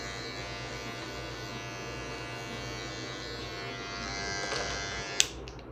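Electric hair clipper fitted with a number 1 guard in the closed position, cutting hair during a mohawk fade; a steady close-up buzz that runs throughout, with a small click near the end.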